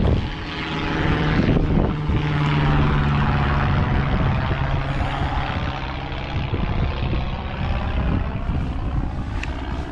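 A propeller airplane flies low overhead along a UK beach, its droning engine loud and steady throughout, swelling and shifting in pitch as it passes.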